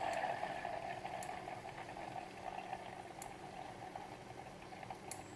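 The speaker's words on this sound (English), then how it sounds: "It's bubbling." Butter simmers gently in a pan as it cooks down into ghee, giving a quiet, continuous bubbling sizzle with faint scattered pops and no voices.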